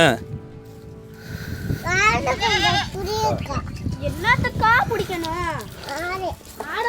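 Several goats bleat in wavering, nasal cries, some overlapping, close by in a village during a Pongal celebration, with a voice and farmyard chatter mixed underneath.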